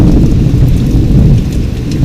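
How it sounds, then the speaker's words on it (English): Heavy rain from a long thunderstorm pours in a loud, continuous roar with deep low rumble underneath, a dense, unbroken wash of sound with no voices. "Lightning and thunder."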